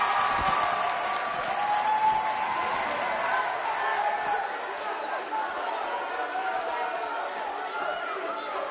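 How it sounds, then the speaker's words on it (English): A sold-out arena crowd in the wrestling video game WWE 2K19 claps and chatters in a continuous, distant roar that slowly eases off, with a commentator's voice talking over it. "We have a sold-out, record-setting crowd here for BCW tonight."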